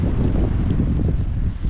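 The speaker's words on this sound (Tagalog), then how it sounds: "Grabe hangin mga idol." Strong wind buffets the microphone in a steady, heavy low rumble, loud and continuous throughout.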